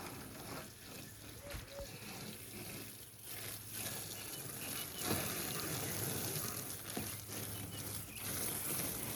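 Water splashing and gushing as stock tanks are rinsed out, an uneven running spray with intermittent bursts and clatter throughout, fairly close.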